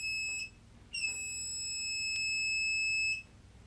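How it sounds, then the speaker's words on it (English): An overcharged, imbalanced battery's BMS alarm sounds in sharp, high-pitched electronic beeps: a short beep, a pause, then one long sustained tone, faint against a quiet room. "It will beep forever now."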